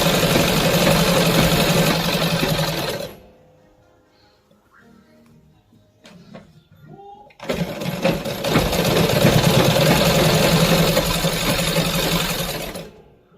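An electric sewing machine stitches a salwar in two loud, close runs of steady whirring, about three and six seconds long. Between them is a quiet pause with faint handling clicks.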